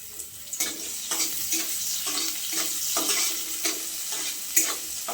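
Onion and chilli frying in a pan for an egg dish, a steady close sizzle broken by regular scraping strokes of a spatula stirring, with no voices.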